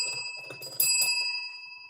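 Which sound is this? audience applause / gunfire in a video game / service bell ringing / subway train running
service bell ringing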